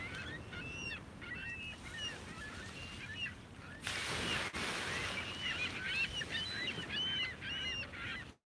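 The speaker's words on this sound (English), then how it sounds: "And the birds add so much more excitement to the scene." Birds call at a gloomy beach, with repeated goose-like honks near and far over a constant rush of wind and surf. A brief louder gust comes midway.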